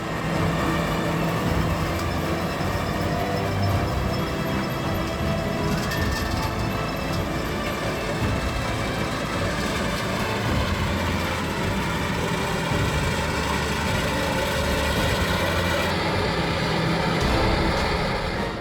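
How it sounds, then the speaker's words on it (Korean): A Robotractor fitted with hydraulic shock absorbers runs a corn harvester across a steeply sloped field, giving a steady, moderately distant engine rumble and mechanical drone that carries on unbroken for the full length. "경사가 심한 밭에서도 옥수수 수확 작업을 하는 장면입니다."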